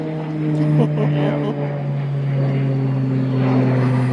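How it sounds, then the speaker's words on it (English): Propeller airplane drones overhead with a steady low hum throughout, loud and continuous, while people talk quietly beneath it. "Excuse the airplane flying over."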